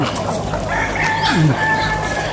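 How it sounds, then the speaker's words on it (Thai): A flock of bantam chickens clucks at a temple in the evening, with overlapping nearby clucks and a short crow-like call over a steady outdoor background. "ฝูงไก่แจ้นะครับ เป็นเสน่ห์นะครับของวัด"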